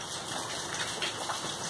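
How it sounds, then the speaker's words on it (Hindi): Rain pours outside, giving a dense, even hiss of drops with no voices over it. "बाहर बारिश हो रही है इस टाइम, शायद आपको बारिश की बूंदों की आवाज़ आ रही होगी"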